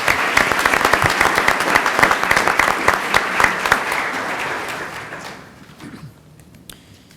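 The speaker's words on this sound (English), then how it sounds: "One final round of applause, please, for our winners." A board of education meeting audience claps for middle school science competition winners, a full, even round of applause from many people that holds for about five seconds and then tapers off into near quiet.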